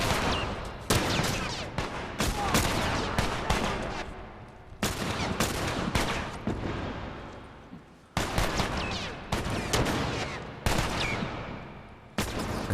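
Rapid gunfire from AI teammates in The Last of Us Remastered on Grounded difficulty at Tommy's Dam, loud bursts and single shots cracking repeatedly across the whole stretch with short gaps between volleys.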